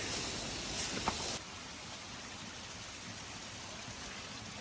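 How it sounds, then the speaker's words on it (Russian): Constant rushing and splashing of water from a small waterfall flowing out from under rocks nearby in the mountains of Galanchozh district, Chechnya, with a louder hiss at first that drops to a steady, softer flow. "Вон там еще мелкий водопадик"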